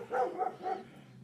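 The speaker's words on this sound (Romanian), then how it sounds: "Latră câinile pe ce, nu știu," A dog barks three times in quick succession, moderately close, with a short quiet tail after the last bark.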